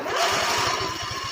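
A Husqvarna engine, freshly fitted with a cleaned carburetor, cranks over with a rapid, even chugging pulse, loud and close, without catching or any talk.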